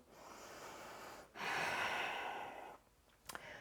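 A person breathes slowly and audibly while holding a yoga pose, with one long steady exhale after a short pause and then a quieter breath, close and alone with no talk.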